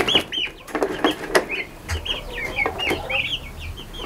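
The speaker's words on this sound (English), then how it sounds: "Come on, little turkeys." Young turkeys chirp and peep in quick, high calls, scattered and close by, with soft clucking notes and faint rustling.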